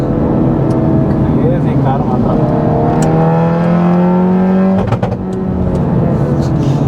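A Maruti Alto car engine revs and drones with rising and falling pitch, loud and close, while people talk over it.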